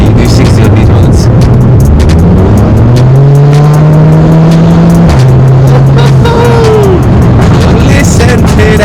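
Stage 1 tuned Volkswagen Golf GTI engine on English country roads, loud and close, revving up through gears with a sustained pull then a gear change, plus crackles and pops, with someone talking over it.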